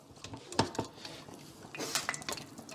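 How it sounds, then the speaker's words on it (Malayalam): A utensil scoops beef pieces out of a pan, giving close metallic scrapes and a few bright clinks over a low background rustle. No speech is heard. "ഇതിൽ നിന്ന് ഈ കഷ്ണങ്ങൾ മാത്രം കോരിയെടുക്കുക"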